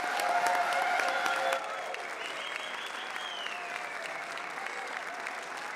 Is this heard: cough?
no